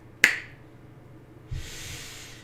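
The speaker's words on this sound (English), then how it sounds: "you're just going to take your hand, snap your fingers," A single sharp finger snap, close and crisp, rings out once during a quiet guided meditation, followed by a soft breath.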